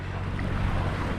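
A sailboat's motor runs on the open ocean in a freshening breeze, a low steady hum beneath the wash of waves and gusty wind noise buffeting the microphone.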